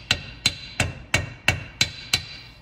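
On a vise, a hammer taps a part from a 1964-66 Thunderbird transmission: seven evenly spaced, close metallic raps with a bright ring, about three per second, with no voices.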